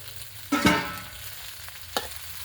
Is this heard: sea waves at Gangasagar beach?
no